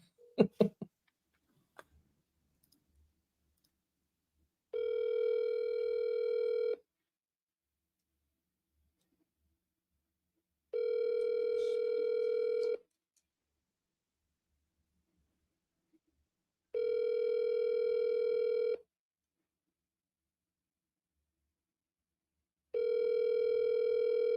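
An outgoing call to a Massachusetts cell phone number rings out, with a few clicks at the start and then four evenly spaced ringback tones of about two seconds each, separated by quiet gaps.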